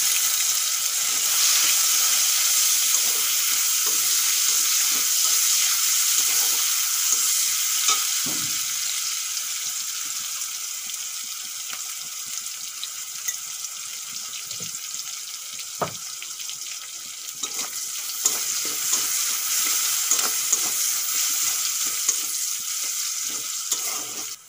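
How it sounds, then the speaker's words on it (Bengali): Chopped onion with a pinch of asafoetida sizzles steadily in a pan for a Dhaba-style okra dish, with frequent scraping and stirring clatters over a constant frying hiss and no talk. "পেঁয়াজ ভাজা হয়ে গেছে"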